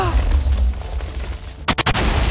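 Minecraft TNT detonates with a heavy rumbling roar of blasts that fades slightly, then three or four sharp, loud explosions burst in quick succession near the end.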